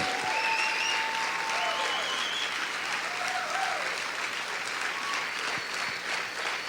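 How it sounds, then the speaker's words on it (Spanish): Steady, dense applause from a church congregation during worship, loud and unbroken, with faint cheering voices layered on top. "Sigue aplaudiendo fuerte al Rey."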